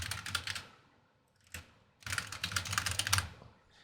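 Computer keyboard typing while searching for a term, two bursts of rapid close key clicks separated by a brief pause with one isolated keystroke, no talk.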